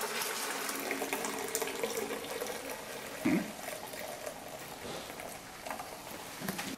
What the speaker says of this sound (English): Pour the grape juice into the fermenter with the bentonite solution.